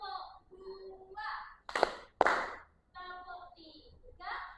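Children in a counting clap game slap their hands together in two sharp, close bursts between spoken instructions from an adult and kids, with talk filling the gaps.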